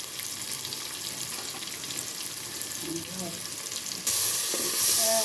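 Onions sautéing in a pan for prawn curry give a steady, soft sizzle with occasional stirring scrapes, growing louder and brighter near the end as more goes into the pan.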